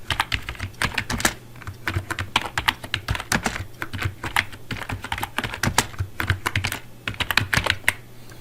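Fingers typing an address into an online job application form on a computer keyboard, a close, steady patter of key clicks in irregular bursts with brief pauses, alone and clear.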